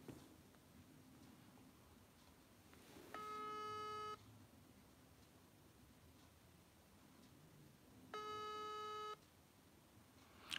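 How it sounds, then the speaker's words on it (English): A telephone busy tone sounds while a call is redialled: two steady beeps about a second long, several seconds apart, faint over a low hiss with no talking. "We lost him. I'm gonna phone him back now."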